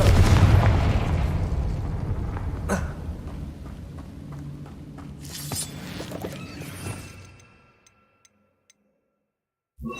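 Confringo explosive spell in Hogwarts Legacy: a loud rumbling blast that slowly decays over several seconds, with scattered crackles and debris clicks, then falls nearly silent.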